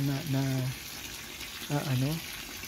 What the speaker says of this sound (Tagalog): Yung natitirang tubig ay tinitimba ko para yung mga dumi ay alis talaga.